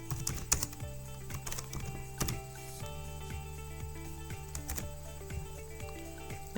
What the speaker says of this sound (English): Okay, so let's type guess the word.